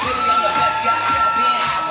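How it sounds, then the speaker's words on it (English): A wrestling crowd in Brewer cheers and shouts at a live pro wrestling show, a loud, continuous roar of voices with scattered whoops throughout. "the crowd here in Brewer is hyped up to see him"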